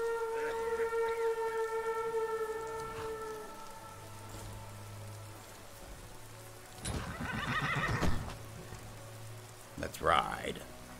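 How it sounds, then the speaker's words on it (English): A horse whinnies and neighs in the fantasy game Skyrim, with soft hoof clops and steady rain around it, and a voice speaks faintly in the background. "We'll need our horses, Amran."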